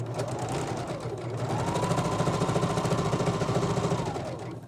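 A sewing machine stitches a drawstring bag seam at close range in two continuous runs, with a rapid rhythmic whir that speeds up and slows at each start and stop.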